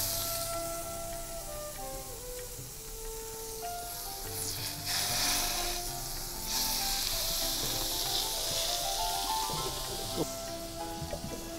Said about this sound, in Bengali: আমি 1 টেবিল চামচ পরিমাণ বাটার একটু গরম করে আমার বাটারটা একটু গরম হয়ে আসছে। এবার আমার চিকেনটা এখানে দিয়ে দিব।